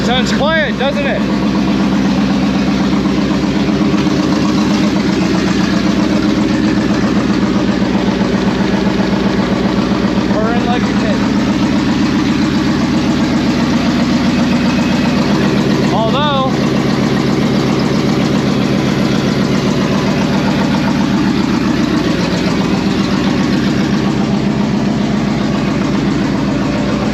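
Ford Coyote V8 engine idling steadily and quietly with a low, even hum under a voice talking.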